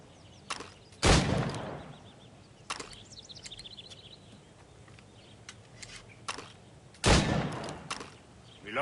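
Gunshots ring out as targets are shot in the video game Assassin's Creed Rogue: one loud report near the start and another later, with lighter clicks and faint ambient sounds in between.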